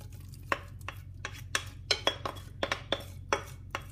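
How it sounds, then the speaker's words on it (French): Onions being stirred into a cooking pot of oil-and-spice marinated lamb for couscous, a series of light clinks and scraping knocks from a utensil against the pot at an uneven rhythm over a low hum, quiet and close, with no voices. "Je rajoute les oignons."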